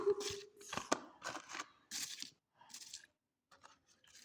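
Real metal scissors, not toy ones, make several quick, crisp snips in separate bursts with short pauses, ending in a few fainter clicks.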